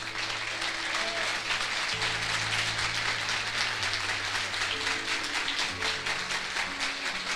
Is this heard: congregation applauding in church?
yes